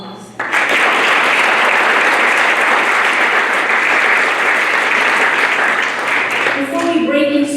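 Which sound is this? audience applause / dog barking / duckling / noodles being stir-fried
audience applause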